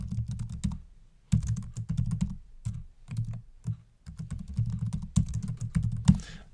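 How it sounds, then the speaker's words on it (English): Fingers type on a computer keyboard in bursts of quick, close key clicks separated by short pauses, steady and clear with no talking. "We're going to type in a list."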